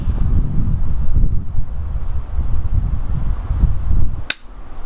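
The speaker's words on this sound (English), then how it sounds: "This wind is friggin' terrible." Strong gusty wind at an outdoor shooting range buffets the microphone with a loud, low, rumbling roar that rises and falls, and a single sharp crack cuts in briefly near the end.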